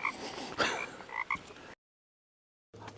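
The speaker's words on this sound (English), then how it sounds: "I hear frogs." Frogs croak in a park in the early morning, several short rasping calls close by in quick bursts, then a moment of silence before the croaking picks up again.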